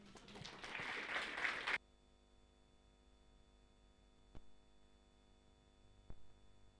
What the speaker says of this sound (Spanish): Vamos a recibirlos, por favor, con fuertes aplausos.